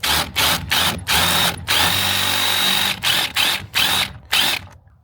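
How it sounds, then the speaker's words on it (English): A power drill with a step bit whines loudly in a series of bursts, drilling out rivets on a Mercedes Sprinter door, starting and stopping about a dozen times with short pauses between each run. "I'm going to go and just drill these out"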